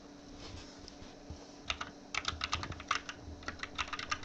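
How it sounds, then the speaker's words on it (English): Fingers type on a computer keyboard, starting sparse and soft, then building into quick clusters of crisp, close key clacks with short pauses between bursts. "typing"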